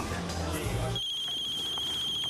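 A telephone rings with a steady electronic tone that starts partway through and continues to the end. Talk and background noise come before it begins.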